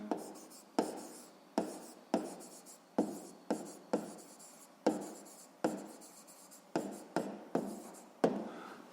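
A pen or pencil writes math notes by hand on paper. Each short scratching stroke ends in a light tap, repeating in a steady rhythm, close and quiet with no talk.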